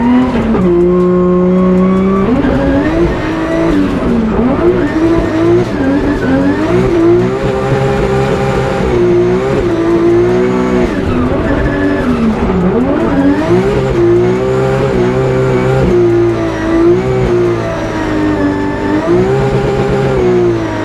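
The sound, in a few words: drifting car engine and tires in Drift Masters video game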